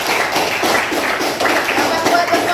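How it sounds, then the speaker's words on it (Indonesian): A room full of people clapping, a dense and fairly loud patter of hands continuing throughout. "Kita berikan tepuk tangan dulu."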